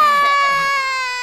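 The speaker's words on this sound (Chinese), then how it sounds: "你把他弄哭了" A young child wails in an animated Chinese wuxia series, one sustained high, tonal crying note that slowly fades, close and clear, with faint background sound beneath.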